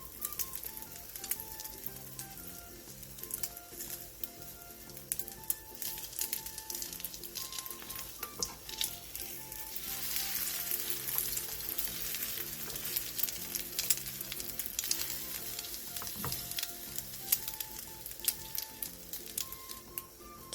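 An egg roll folded around cheddar cheese sizzles in a frying pan, a steady crackling fry that runs throughout with a faint tonal layer underneath and no talk.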